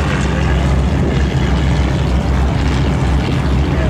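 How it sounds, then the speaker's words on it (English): A Stampe SV4 biplane primary trainer, a French-built aircraft with a four-cylinder engine of 140 to 180 horsepower, drones loud and steady as it flies past at a World War II airshow weekend, a continuous broadband engine roar throughout. "And the French-built primary trainer, the Stampe SV4."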